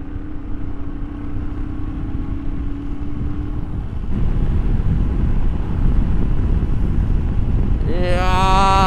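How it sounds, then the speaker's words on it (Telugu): Wind buffets the microphone during a ride on a Royal Enfield Interceptor 650, a heavy, steady low roar over the engine's drone. The rush grows stronger partway through, and a rising engine or horn tone cuts in near the end. "so much wind"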